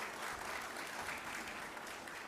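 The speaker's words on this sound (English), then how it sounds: "we want you to give another round of applause for the excellence of Dancing Africa." A gala audience at the Caribbean Broadcasting Union Media Awards applauds the Dancing Africa troupe, a dense, continuous roar of clapping filling the hall without break.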